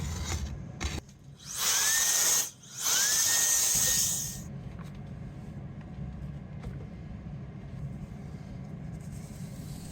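Power tool stripping paint from the putty rebate of a wooden awning window frame, a loud high-pitched whine running in two bursts over the first few seconds with a brief dip between, then the tool stops and only low room rumble remains.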